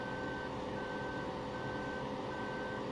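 Steady, evenly spaced reversing beeps from a farm vehicle backing up in the Farming Simulator 2015 video game, over a constant loud engine drone with no talking.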